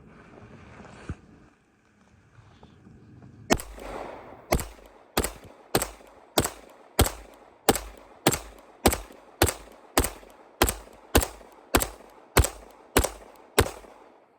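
Springfield Prodigy pistol emptying a magazine outdoors: about seventeen sharp, loud shots fired at a steady, fairly quick rhythm, each with a short echoing tail, after a few seconds of quiet handling noise, with no voices.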